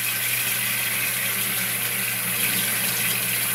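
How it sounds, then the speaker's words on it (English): Warm water runs steadily from a tap into a bathroom or kitchen sink, a loud, continuous close-up rush with no pauses and no talking. "what I'll be doing essentially is filling up the sink"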